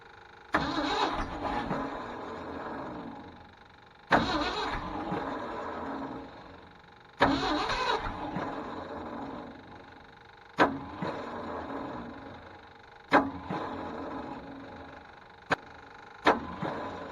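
A Ford F800 truck with a broken 429 engine cranks repeatedly, each attempt a sudden burst of whirring starter and engine churn that fades, about seven tries in a row, close and loud with no voices.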